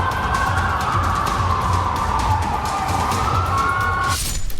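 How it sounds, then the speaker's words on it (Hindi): Police vehicle sirens wail steadily at a street barricade on Bourbon Street in New Orleans, loud and unbroken over a low traffic rumble before cutting off near the end. "पुलिस की गाड़ियों का सायरन और ये बैरिकेडिंग।"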